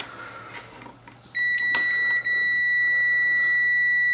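A multimeter gives a steady continuous continuity beep while probing the fuse of a C13 kettle-lead power cord, the tone starting abruptly and holding with a brief dip, alone and close.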